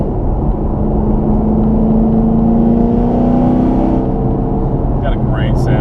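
A supercharged Hennessey HPE750 Camaro SS with a newer LT V8 roars loudly and steadily while driving, its deep engine drone rising slightly in pitch before brief higher tones near the end.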